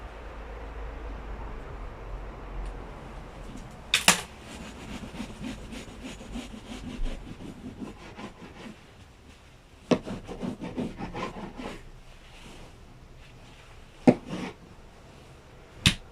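A block of mineral wool roof insulation is cut apart with a blade, giving close, dry rasping strokes across the fibres, with several sharp clicks and snaps in between.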